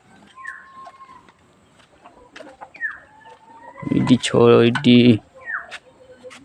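Hen and small chicks clucking and peeping in a cold household coop where a hen hatched three chicks from thirteen eggs; thin chick chirps recur throughout, with a louder burst of fowl calls near the middle.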